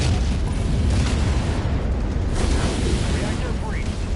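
Artillery explosions in the MechWarrior 5 video game roar as a dense, continuous wash of booms and rumbling blasts that stays loud and close throughout.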